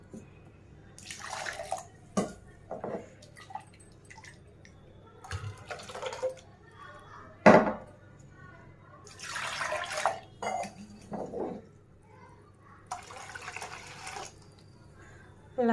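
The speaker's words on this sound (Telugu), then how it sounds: "మీకు ఎంతైతే కావాలో అంత వాటర్ యాడ్ చేసుకోనండి" Water is poured in several separate splashing bursts into tomato pulp and ground paste while cooking sesame pachi pulusu. It sounds close and fairly loud, with quiet pauses between pours.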